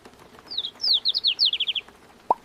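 A small hurt bird gives a quick run of thin, high chirps, close and clear, followed by one short peep after a pause.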